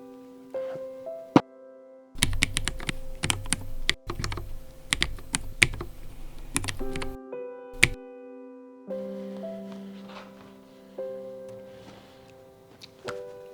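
Typing on a KBDCraft Israfel Lego ergo-split 50% keyboard made of light, non-premium materials: bursts of quick, clacky keystrokes, close and loud, separated by pauses, with a short soft melodic chime at the start and again near the end.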